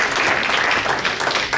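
Short burst of audience clapping at a district forum, a dense patter of hands at moderate loudness with no one talking.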